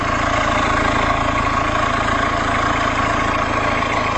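Steady close idle of a 2009 Toyota Auris 1.4 D-4D diesel engine just restarted after fuel filter replacement and priming, an even low rumble with no talk.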